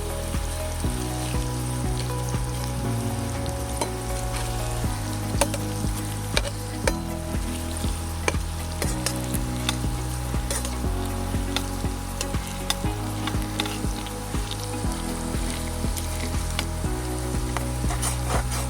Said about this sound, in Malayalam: അപ്പോൾ നമ്മുടെ ഫ്രഞ്ച് ഫ്രൈസ് ആദ്യത്തെ സെറ്റ് വറുത്ത് വന്നിട്ടുണ്ട്